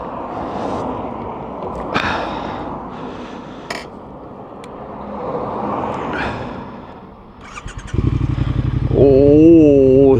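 Motorcycle, likely a Triumph Thruxton R 1200, approaching and passing at a fair pace on a rural road, its engine rising out of wind and background noise, then a louder close, throaty revving rumble near the end.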